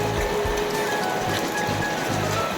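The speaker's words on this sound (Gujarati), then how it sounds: "વરસાદ કેવો સર્યો બહુ હજી વધારે આવવાનો છે" Heavy monsoon rain falling steadily over flooded farm fields in rural Gujarat, a dense continuous hiss close by with low rumbling thuds beneath, no voices.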